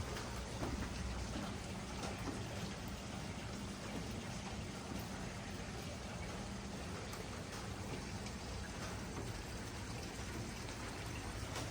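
Steady rain falls with an unbroken, even hiss that holds at a moderate level throughout, with no voices.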